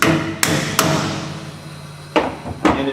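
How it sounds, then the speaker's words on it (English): Lead wheel weight hammered onto the lip of a steel wheel rim during tire balancing: four sharp, close metallic blows, two in quick succession, then a pause before two more. "it should take a little bit of effort to actually hammer that weight on"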